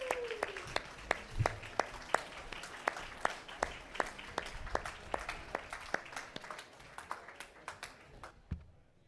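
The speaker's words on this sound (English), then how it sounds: "Let's give a big round of applause." A small, sparse audience clapping at an evening museum closing event, distinct individual claps fairly close, thinning out toward the end.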